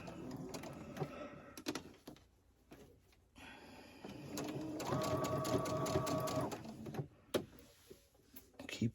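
A sewing machine back stitches while a crew neck is turned into a V-neck. Short stops and starts lead into a steady mechanical whirring run, close and moderately quiet, with small handling clicks around it.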